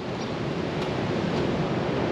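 Sea waves at Nha Trang beach in Vietnam, a continuous close wash of surf noise, steady and moderately loud with a little wind.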